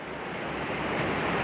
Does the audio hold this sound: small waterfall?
yes